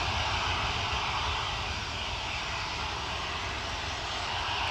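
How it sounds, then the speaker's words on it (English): A small Embraer twin-engined turboprop takes off at Newcastle in wet, spray-throwing conditions, its engines and propellers producing a dense, steady roar that stays loud and even throughout. "it is, yeah, a little Embraer twin-engined turboprop"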